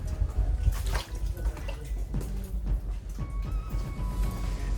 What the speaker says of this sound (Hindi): ये रहा वो पानी जो कि आपका डेविस फॉल से होते हुए इस तरफ आता है